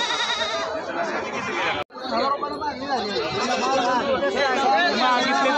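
Bleating from Katewadi-breed goats at the Thursday goat and sheep market in Lonand rises through dense crowd chatter and nearby voices, forming a steady, busy din.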